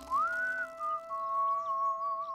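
Clear whistled melody from a children's animated story, a single sustained tune rising then holding steady with small wavers, close and alone with no talk.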